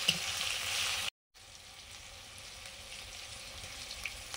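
Tomatoes and turmeric go into hot oil in a pan, giving a bright, close sizzle that cuts out for a moment, then returns as a softer, steady frying crackle.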